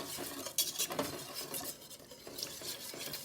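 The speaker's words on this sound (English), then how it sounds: "I like to use a whisk, because it just incorporates it a little bit better" A whisk stirs mac and cheese sauce in a pot over a low flame, with soft scraping and clinks of metal against the pot in uneven strokes, close and fairly quiet, with no voices.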